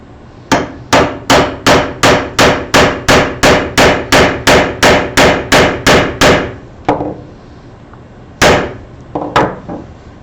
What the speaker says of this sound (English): you take the nail set, you put the nail set right on top of that dimple